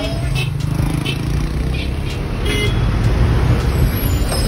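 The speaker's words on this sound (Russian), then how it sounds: "Вот тебе забитый полностью автобус людьми" A crowded Volkswagen minibus rumbles through busy street traffic in Giza, with a steady loud engine drone and surrounding road noise, and a voice faintly in the background.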